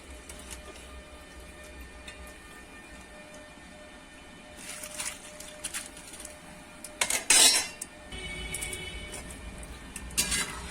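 Whole mung beans and lentils are tipped into a cooking pan with ghee for gota sidho, giving close rattling clatters in a few bursts, the loudest near the middle, over quiet kitchen background with no talk.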